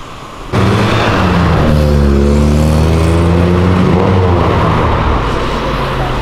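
A Jeep Renegade passing on a city street, its engine note rising suddenly and loudly after a quiet start, then holding a steady whirring drone close by.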